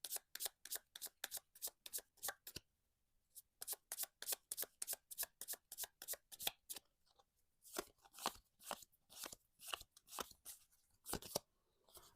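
Lenormand cards being riffled and shuffled by hand in quick repeated bursts of crisp slaps and flutters, pausing briefly and starting again, close and quiet with no talking.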